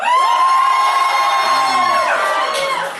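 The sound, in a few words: audience cheering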